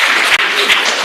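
Audience applause at a PhD commencement ceremony, a loud and dense wash of clapping filling the whole short moment with a brief dip partway through.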